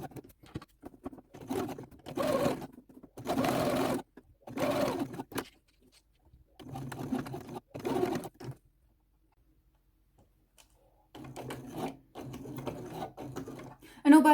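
A sewing machine stitches a seam on an eight-panel skirt, running in several separate bursts of steady mechanical whirring with short pauses between, up close and fairly quiet.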